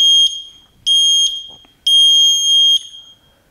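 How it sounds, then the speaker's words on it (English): Sharp electronic beeps from a Seesii home gym interval timer: three short high tones at even spacing, then a longer held beep, loud and close, silence between. "when it gets to 3 seconds, it's gonna start beeping at me, telling me, hey, it's coming, get ready"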